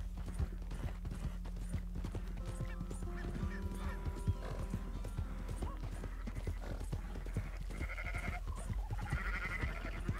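Sheep bleat in a Red Dead Redemption 2 game scene, with quick clip-clopping hooves and a constant low ambient rumble running throughout.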